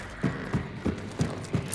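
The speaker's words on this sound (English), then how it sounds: "I think I just heard a horse go off." Hooves clip-clop in a steady rhythm, five evenly spaced thuds over a low background hum, like a horse trotting nearby, in the video game Hunt: Showdown.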